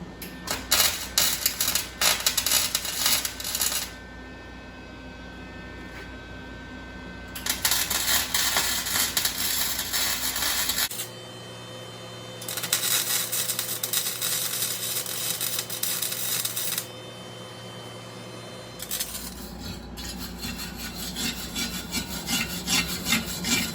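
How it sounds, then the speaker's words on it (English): Welding on a new fuel cell for a 1974 Chevy Nova build: several long bursts of harsh, steady crackling and buzzing, separated by short pauses, loud and close with a constant electrical hum underneath. "Time to weld."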